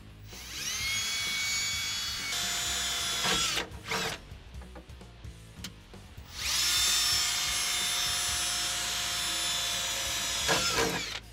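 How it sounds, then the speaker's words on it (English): A power drill with a small bit whines steadily in two long bursts with a short pause between, starting a hole to fit a rear chassis brace on a 2005-2014 Mustang coupe, close and loud, with no talking. "I am starting with a smaller drill bit. I'll go ahead, get my hole started."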